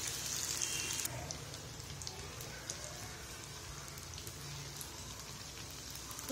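Samosas frying in hot oil over a medium flame, giving a steady, rain-like sizzle and crackle at a moderate level, with a brighter burst of spitting at the very start.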